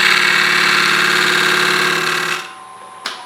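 Wood lathe with a skew chisel scraping a rough tree log being turned into a bowl blank, the tool bouncing between hard and soft grain; a loud steady droning hum that drops away near the end, followed by one brief knock.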